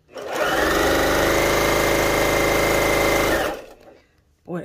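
A Janome HD9 sewing machine runs at full speed, giving a loud, steady, rapid mechanical whir that holds for about three seconds and then winds down, with a short burst at the end.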